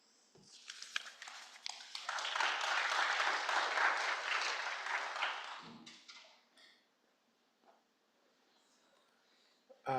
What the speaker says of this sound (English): if you want to give everyone a big hand of applause